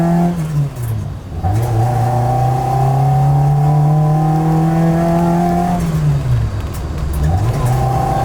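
A nearby Toyota AE86 engine revs up hard through first, second and third gears, its pitch climbing, dropping sharply at each gear change and climbing again, loud and continuous.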